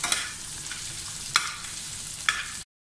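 Beef for a rustic Kerala-style beef fry stirred in a hot pan, with a steady close sizzle and a few sharp scrapes of the spoon against the pan.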